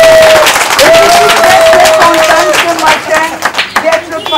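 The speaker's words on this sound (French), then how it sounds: "On applaudit." A crowd at a public nursery school in Grand Moulin applauds during a donation ceremony for teaching materials, loud sustained clapping mixed with a few cheers and voices, tapering unevenly toward the end.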